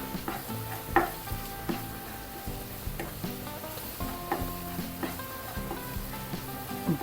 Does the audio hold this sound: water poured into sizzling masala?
yes